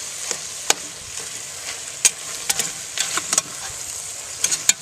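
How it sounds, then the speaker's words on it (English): Chile in a Dutch oven over a direct fire on a Grill Dome being stirred with vegetables, irregular scraping clicks and knocks over a faint sizzle, close and sporadic. "we'll stir this mess up and let that cook for about another 10 minutes"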